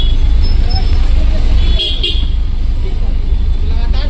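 Heavy road traffic in rainy Bangalore, with a steady loud roar of engines and tyres on wet road and a few short horn toots rising over it, while people talk nearby.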